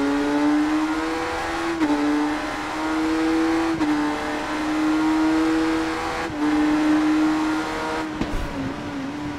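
A Kawasaki ZX10R motorcycle engine in a racing video game drones steadily at a high, nasal pitch, briefly dipping between gear shifts and rising again, with no talking.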